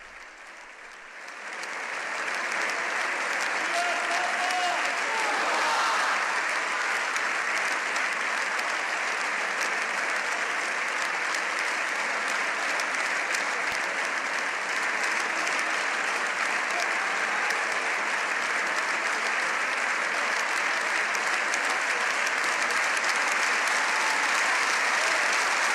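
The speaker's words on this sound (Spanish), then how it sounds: "Nuevamente se repite con más efusión el aplauso, largo aplauso" Long, sustained applause from deputies of the Spanish Parliament in Madrid greeting the Pope: a dense, steady wall of clapping that swells in over the first couple of seconds and then holds at full strength without pause.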